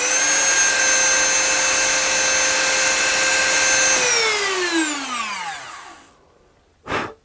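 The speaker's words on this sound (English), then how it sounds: "The Dremel seems a lot quieter without." Dremel rotary tool whining at high speed while cutting a guitar headstock inlay, a steady tonal drone that spins down and fades away, followed by a brief knock near the end.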